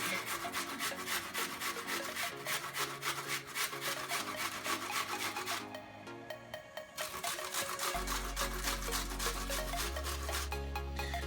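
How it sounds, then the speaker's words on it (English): Sharp new box grater rasping through a piece of onion, a steady run of rhythmic scraping strokes up close, pausing briefly midway before resuming, with some low background tones underneath. "We're going to grate some onion in here. Use our box grater."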